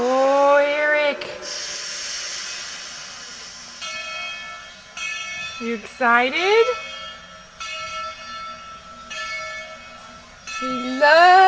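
A train pulling out of the station at Rusk rings its bell in sustained ringing tones, broken by rising, whistle-like sweeps, while people nearby talk excitedly over it.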